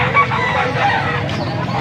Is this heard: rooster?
yes